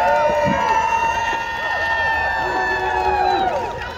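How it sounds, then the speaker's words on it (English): An outdoor speech audience in Victoria, BC, cheers and whoops with some clapping, crowd voices rising and falling throughout while people talk over the noise. "let's give a round of applause to those people"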